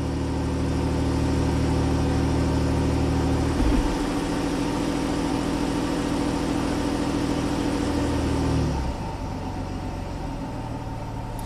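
A Nissan Xterra truck idles steadily at hot idle, a continuous close engine drone with a low hum that shifts slightly partway through, then settles into a quieter, smoother idle.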